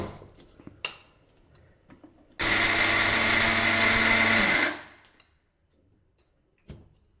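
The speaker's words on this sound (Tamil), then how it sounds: "இப்போ பாருங்கள், மிக்சி ஜாரில் சோளத்தை போட்டு அரைச்சி எடுத்துக்கலாம்." A mixer grinder jar coarsely grinds sorghum grain in one loud, steady whirring burst of about two seconds, preceded and followed by quieter clicks and handling knocks.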